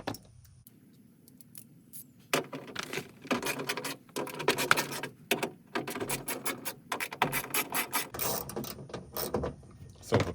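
A ratchet clatters while undoing the window regulator bolts inside the rear driver side door of a 2001-2006 Acura MDX, giving quiet, irregular bursts of clicking and metal scraping up close.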